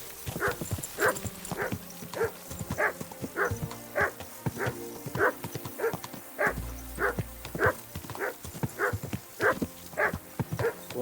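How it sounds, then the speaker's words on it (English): A dog barks repeatedly in the video game Kingdom Come: Deliverance II, a run of evenly spaced, fairly loud barks over a faint outdoor background with what sounds like hoof clops. "What is the dog barking at?"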